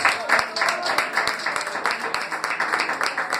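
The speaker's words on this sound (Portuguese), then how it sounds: "Dê uma salva de palmas para o nosso Jesus." A church congregation claps along during a sermon, a rhythmic burst of rapid hand claps that rises and falls, with voices underneath.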